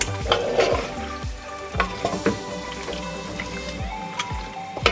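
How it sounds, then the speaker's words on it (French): A spoon stirs tomato juice through a pot of roasting chicken, giving a steady sizzle broken by repeated scraping strokes and light liquid splashes, close and fairly loud with no talking. "il faut bien mélanger pour que le jus de tomate puisse être un peu partout"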